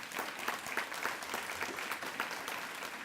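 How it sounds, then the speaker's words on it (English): A breakfast audience at a green task force event applauds with steady, dense clapping that holds evenly for the whole stretch. "let's get a round of applause for that call to action"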